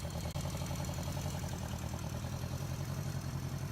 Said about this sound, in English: the Benelli Quattro 254 was a 4-cylinder 231cc screamer